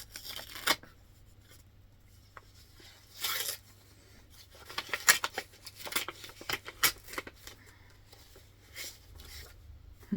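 A package is torn open with scattered crisp ripping, rustling and paper handling to reach a card inside, intermittent bursts at close range over quiet room tone.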